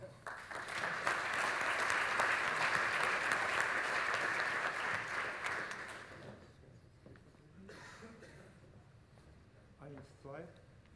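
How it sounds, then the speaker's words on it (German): Warm, sustained applause from a conference audience at the opening of a 2018 neuromarketing congress, loud and steady for about six seconds before fading into quieter room sounds and a few scattered claps. "Von da gesehen einen herzlichen Applaus."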